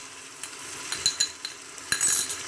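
Garlic-ginger paste fries with softened onions in a hot pan, a quiet sizzle under several sharp clinks and scrapes of a spoon stirring against the metal.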